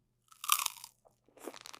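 Candied pomelo peel is chewed close up, a crisp crunchy bite followed by a pause and then more moist chewing.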